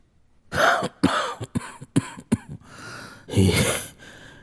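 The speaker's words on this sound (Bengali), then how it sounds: "এই কাশি" A series of harsh coughs from one old man, close and loud, in several bursts with short gaps, ending in a longer rough cough.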